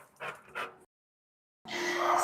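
A little dog gives two short, high yips or whimpers, followed by a pause and then a louder, more sustained whine, heard close by.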